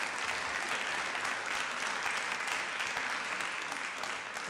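Sustained applause from a city council meeting audience, steady and dense throughout with no letup, the whole room clapping together at close range.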